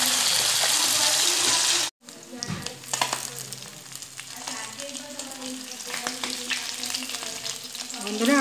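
Parshe fish frying in a pan after being flipped, giving a loud, steady sizzle that cuts out briefly, then resumes more softly with occasional crackles and small clinks.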